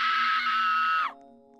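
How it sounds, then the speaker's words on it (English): A single loud human scream, held steady for about a second before trailing off into a quieter background, delivered by a player reacting to a bear in a Roblox game. "My loud scream I can do."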